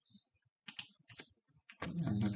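Keystrokes on a computer keyboard while a command is entered in a Kali Linux terminal: a few quick clustered clicks, then a denser, louder burst of typing toward the end, close by.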